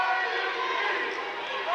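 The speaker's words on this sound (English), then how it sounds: "we get an IUP chant here from the students and the rest of the crowd" Crowd and students at a women's college basketball game, California vs Indiana (IUP), chant in a steady, sustained roar that fills the arena, loud and continuous without a break.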